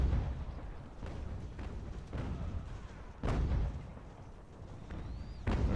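Cannon fire from 6-pounder guns rolls across a battlefield in Ultimate General: American Revolution, a string of distant, heavy booms at irregular intervals over a constant low rumble of battle.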